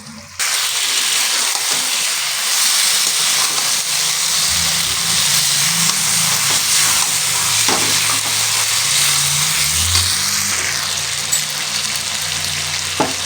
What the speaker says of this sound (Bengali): এই যে সাইডে এভাবে ধীরে ধীরে কিন্তু একটু কষিয়ে নেব